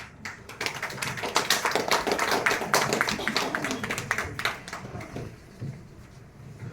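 Dense, steady applause from an audience closing a stage event, with many hands clapping together in a continuous rattling wash that swells slightly and then thins toward the end.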